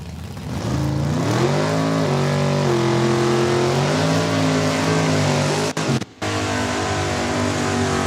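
Mopar drag race cars accelerating hard down the strip at a Saskatchewan raceway, a loud, sustained engine roar with rising harmonics, close and continuous, briefly cutting out near the end with no talk.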